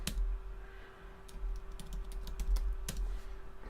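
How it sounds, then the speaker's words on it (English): Keys clack on a computer keyboard in quick, uneven bursts of sharp taps, close and fairly clear over a low steady hum, with no one speaking. "then we'll just type in troubleshooting"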